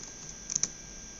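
Faint keystrokes on a computer keyboard as a password is entered, a couple of quick taps close together in quiet surroundings.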